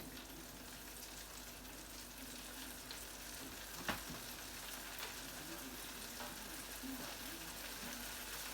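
Shrimp frying in hot oil give a steady, faint sizzle and crackle throughout, with one brief sharper pop partway through.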